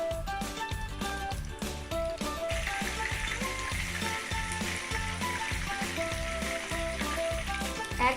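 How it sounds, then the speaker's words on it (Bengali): Chicken gold coin snacks deep-frying in hot oil give a steady, continuous sizzling hiss that grows fuller after the first couple of seconds, running alongside rhythmic background music throughout. "তেলটা গরম হলে এরপর এতে চিকেন গোল্ড কয়েনগুলো এক একটা করে ছাড়ছি ও সোনালি করে ভেজে তুলতে হবে।"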